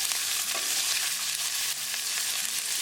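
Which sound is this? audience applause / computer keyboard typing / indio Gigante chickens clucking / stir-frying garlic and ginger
stir-frying garlic and ginger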